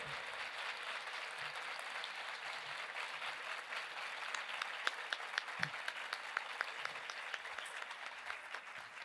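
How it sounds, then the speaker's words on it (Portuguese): An audience applauds at an education seminar, steady even clapping from a crowd throughout, heard at a moderate distance, with no talk over it. "Pode aplaudir."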